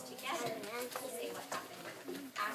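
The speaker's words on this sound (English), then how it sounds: "A bird is right?" Soft pigeon-like cooing from a bird sounds faintly under steady classroom chatter, with several low coos across the moment.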